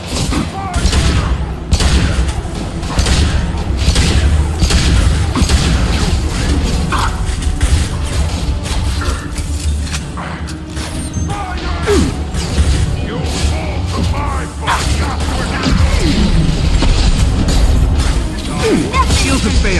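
Squad combat in Mass Effect 2 fills the space with steady bursts of gunfire, thuds and mechanical clatter, loud and continuous, with voices talking over the fighting.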